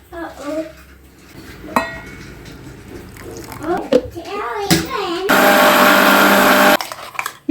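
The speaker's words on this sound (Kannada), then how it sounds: "ಸ್ವಲ್ಪ ಬಿಸಿ ನೀರು ಹಾಕ್ಕೊಂಡು ಗ್ರೈಂಡ್ ಮಾಡ್ಕೊಳ್ಳಿ" After some clattering and talking, a mixer grinder grinding spice paste with hot water whirs loudly and steadily for about a second and a half, then stops.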